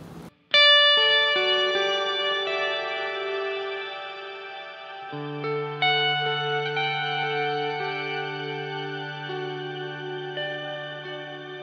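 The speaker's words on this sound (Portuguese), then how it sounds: "Esse é um reverb mais característico, um reverb muito presente, com uma cauda bastante longa" A guitar played through a lush, long-tailed reverb, with chords and single notes ringing out and blooming into a wide, sustained wash that hangs and slowly decays between new notes.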